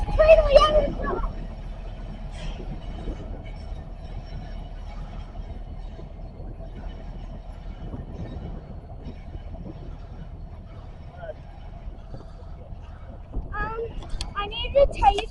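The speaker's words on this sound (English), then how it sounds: "Why is it going that way with two locomotives?" A short train with two locomotives switching tracks gives a steady low rumble and a sustained tonal hum throughout, with louder activity near the start and end; people talk nearby.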